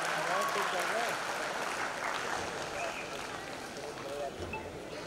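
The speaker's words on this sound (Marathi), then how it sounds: "जोरदार टाळ्या जरा होऊ दे, जरा जोरदार टाळ्या." Audience applause fills a film awards ceremony hall, with dense, sustained clapping that tapers slightly over a few seconds while a voice speaks over it.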